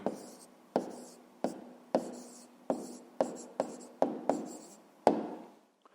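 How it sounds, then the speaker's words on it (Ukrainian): A hand writes out an answer to a fifth-grade arithmetic exercise in nine distinct pen or chalk strokes. Each stroke starts sharp and tails off, spaced roughly every half second to a second, close and quiet, with no voices. "записуємо тоді відповідь, пишемо відповідь"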